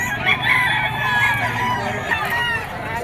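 Several early bird banded young roosters, stags, crowing at once at a crowded poultry sale in Bocaue, Bulacan, with loud, overlapping, drawn-out calls that fill the clip.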